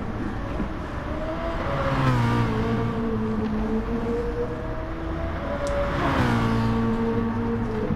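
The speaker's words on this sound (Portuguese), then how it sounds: "Olha um pouco do V8." A BMW M3 GT with a 4-litre 32-valve V8 revs in Gran Turismo Sport, a steady close engine drone with clear rising and falling harmonics, climbing sharply near the start and again toward the end, with no talk.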